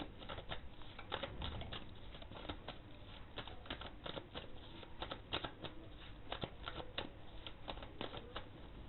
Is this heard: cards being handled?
yes